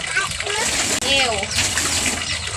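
Water splashes and swishes continuously at close range, with a voice talking over it.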